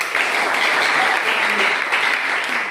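A class of students claps together in a classroom, a steady burst of applause that fills the room for a few seconds.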